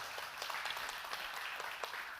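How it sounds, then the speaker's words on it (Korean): A church congregation gives a short burst of applause, many hands clapping in a soft, slightly distant wash with a few sharper individual claps standing out. "한번 저 방송실에서 수고하는 분들, 우리 경비와 찬양팀들 박수를 한번 해드리면 어떨까요?"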